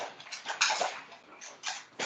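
A dog whimpers indoors in several faint, short, high whines spread unevenly across a quiet room, with no one talking.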